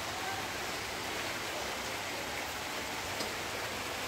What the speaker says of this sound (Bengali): আজকের বৃষ্টি আর থামবে না।